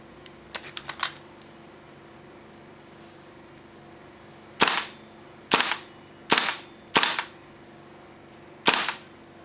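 A JG M4 CQB gas blowback airsoft rifle fires five sharp, separate semi-auto shots at a steady pace, loud and close. Softer mechanical clicks of handling come first, and no one speaks.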